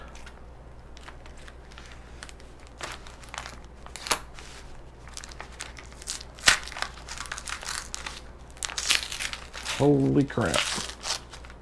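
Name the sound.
tearing open a taped mail package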